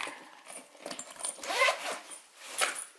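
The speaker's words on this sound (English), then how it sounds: "to open it, it's the zipper" A Jujube Dr. BFF handbag zipper is pulled open in a few quick raspy strokes, close and fairly quiet, with light rustling around it.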